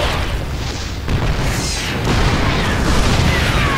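A siege tank destroyed in a StarCraft II match, with dense, loud rumbling explosion noise and layered booms filling the whole stretch, no pauses, no speech.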